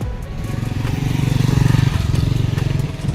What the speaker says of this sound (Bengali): ও যে বাইক আসছে সাবধান।